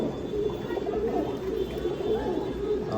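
Pair of Bombay fancy pigeons cooing softly, a steady low murmuring coo that continues throughout at close range.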